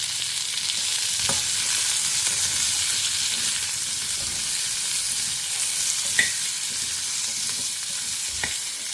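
Onions sauté in a hot pan with salt, a steady bright sizzle filling the clip while a spoon stirs them in a few scattered scrapes and taps, close and without talk.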